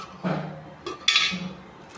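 Lid being pried off a can of polyurethane wood varnish: a few short metallic clinks and scrapes, close and moderately loud, with quiet gaps between them and no talking.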